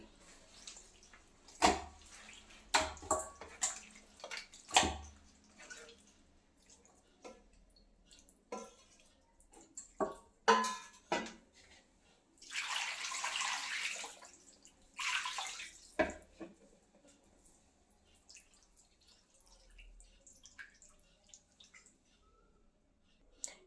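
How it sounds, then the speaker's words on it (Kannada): Running water from a tap comes in short bursts over chicken being washed, with splashing and wet handling sounds between pauses, close by and fairly quiet. "ನೀಟಾಗಿ ಎರಡು ಸಲ ತೊಳ್ಕೊಂಡ್ರೆ ಚೆನ್ನಾಗಿ ಬರುತ್ತೆ ಸ್ಮೆಲ್ಲರ್ ನೀಟಾಗಿ ಹೋಗುತ್ತೆ ಮತ್ತು ಇನ್ನೊಂದು ಸಲ ತೊಳ್ಕೊತಾ ಇದ್ದೀನಿ"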